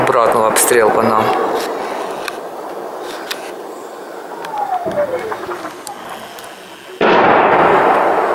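Artillery shelling of homes in the village of Horenka, Kyiv region, during wartime: sharp explosive bangs and pops in the distance under people talking, a descending whistle, then a sudden loud burst near the end.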